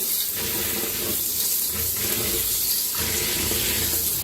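Rice for idli batter is washed clean in water, a continuous loud splashing and rushing of water that persists throughout and cuts off abruptly at the end.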